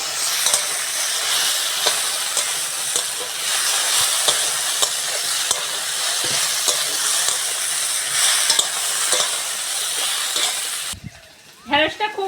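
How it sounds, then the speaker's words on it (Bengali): Okra (bhindi) frying in a pan gives a steady, close sizzle with stirring scrapes throughout, then cuts off sharply near the end, leaving a few brief sounds. "সেই জন্য ভালো করে ঢ্যাঁড়সটা ভেজে নেব।"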